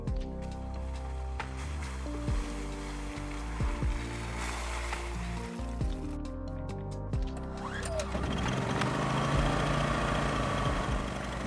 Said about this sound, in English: When the generator is working, we can proceed moving.